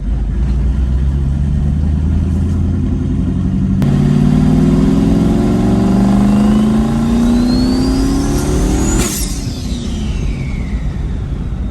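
Loud turbocharged 5.0 engine in a Ford Ranger roaring and building under boost, with a rising turbo whine and a sharp whistle before it eases off.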